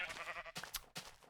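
A sheep in the video game Minecraft bleats a few times in quick succession, short wavering calls close and clear, broken by sharp hit sounds and without talk over them.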